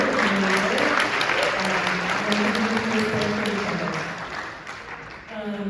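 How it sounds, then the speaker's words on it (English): A community climate justice plenary audience gives a sustained round of applause, dense steady clapping throughout that tapers slightly toward the end, with faint voices underneath. "I like maybe just a round of applause for Pajaro Valley Park"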